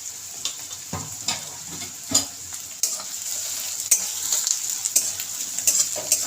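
Chopped onions sizzle steadily in hot oil in a pan, with repeated scraping knocks of a spoon stirring them every second or so, close and fairly loud, while cooking chana masala.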